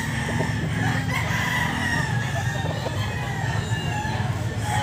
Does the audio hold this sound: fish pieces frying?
no